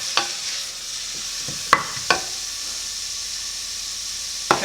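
Onions stirred in a hot pan while cooking a lentil and kumara curry, with a steady frying sizzle and a few sharp scrapes and knocks of the utensil against the pan.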